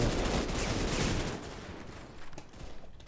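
Sniper rifle fire in a video game with weird, unusual weapons, heard as dense, loud bursts of shots through the first half, then thinning into a few fainter cracks and rumbles.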